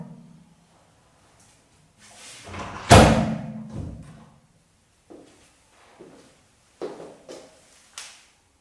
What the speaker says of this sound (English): So let's close the second door.